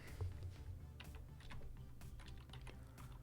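Fingers type on a computer keyboard, entering a function name as a run of quick, light, close key clicks with a few short pauses, quiet and alone with no voices.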